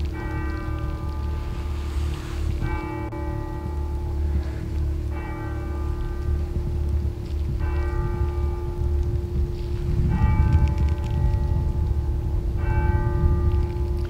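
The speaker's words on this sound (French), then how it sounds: "Les cloches, elles sonnent 2 fois" Church bells ring out at night near an abandoned cemetery in a forest, sounding repeated tolls with long ringing overtones over a steady low hum, each strike decaying before the next.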